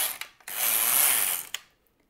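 An LK-150 knitting machine carriage is pushed across the needle bed for one row, a single loud mechanical whirring sweep with a click at each end, close up and alone.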